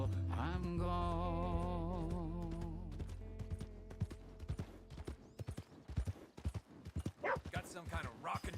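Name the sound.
horse hooves clip-clopping in a video game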